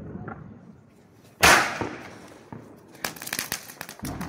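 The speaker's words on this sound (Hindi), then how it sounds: "ये नया चाइनीज चुटचुटू पटाखा है, लाओ भाई जल्दी लाओ, चुटचुटी पटाखा जलाएंगे" A Chinese firecracker set off during a Diwali celebration gives one sharp, loud bang, followed by a brief lull and then a run of fast, irregular crackling pops.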